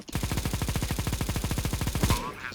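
Automatic gunfire in the video game Counter-Strike, a fast, even burst of about twenty-five loud, close shots that stops abruptly, followed by a brief faint tail.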